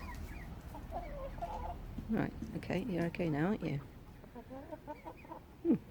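A hen squawks and clucks loudly in a rising, agitated burst, close by, while a person speaks calmly over the noise in a home brewing setting.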